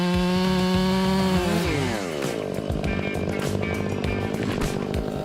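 Chainsaw running loud and close while felling a giant cedar tree, its engine pitch dropping sharply as the bar bites into the wood, then holding a steady, labouring roar.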